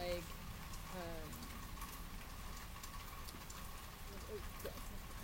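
Steady rain hissing and pattering throughout, a soft continuous wash with a few faint chirps and murmured talk beneath it.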